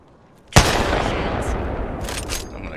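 Gunfire in the shooter game Apex Legends: a sharp close shot bursts out, then a sustained, dense volley of rapid fire and reverberating impacts carries on to the end.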